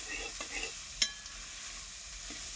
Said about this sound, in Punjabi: ਇਹਨਾਂ ਨੂੰ ਵੀ ਚੰਗੀ ਤਰ੍ਹਾਂ ਭੁੰਨ ਲੈਣੇ ਹਰੀਆਂ ਮਿਰਚਾਂ ਤੇ ਲਾਲ ਟਮਾਟਰਾਂ ਨੂੰ ਆਪਾਂ 1-2 ਮਿੰਟ ਲਈ ਪਕਾ ਲੈਣੇ